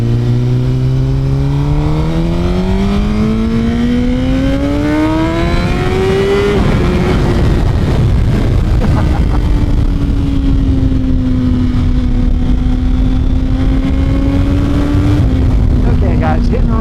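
Suzuki GSX-R1000 motorcycle accelerating onto a highway, the engine note climbing steeply through the gears with one shift, then settling into a steady high cruise, loud and close under heavy wind roar.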